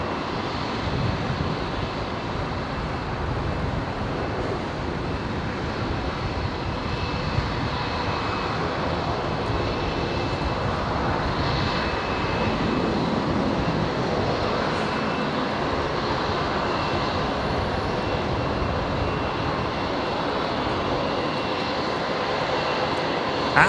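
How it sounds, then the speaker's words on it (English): Qantas Link Dash 8 turboprop touching down after arriving from Canberra, a steady droning engine hum and broad rushing noise at moderate distance, continuous throughout with no voices. "There we go, Qantas Link 8:58, touching down,"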